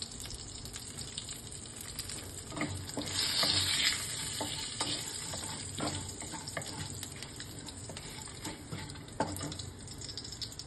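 Whole garam masala, crushed small cardamom and panch phoron fry in oil, giving a close, steady sizzle with crackling spits and a brief louder hiss burst near the start, stirred with occasional utensil scrapes.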